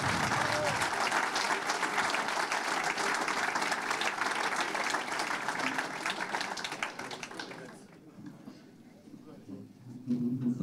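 A studio audience applauds and cheers for three players from a 1991 promotion-winning football team. The dense, sustained clapping fills the room, thins out near the end, then swells briefly again.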